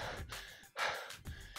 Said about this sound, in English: They get tired, they get out of breath. They start panting.